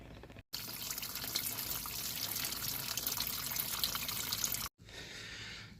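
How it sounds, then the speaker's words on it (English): Coolant pours steadily from the water pump of an 03-08 Toyota Corolla, a continuous close splashing hiss that cuts off twice briefly before resuming more softly. "As you can see, I'm starting to lose coolant."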